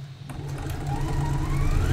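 A sewing machine stitches swimsuit fabric in a short continuous run, its motor hum steady and close with a rising whine.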